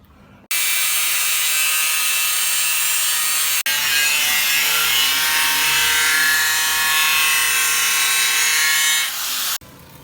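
A wooden piece for an arm wrestling table is cut to length with a power tool, whose loud, steady buzzing grind runs close for about nine seconds with one brief break before stopping.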